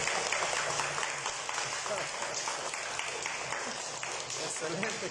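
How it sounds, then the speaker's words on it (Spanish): Audience at a municipal cultural centre event breaks into dense, steady applause that stays fairly even throughout, with voices mixed in beneath the clapping. "¡Aplauso!"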